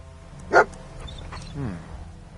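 Dogmeat, the dog in the video game Fallout, gives one sharp close bark followed by a softer whimpering yip, over a low game background hum.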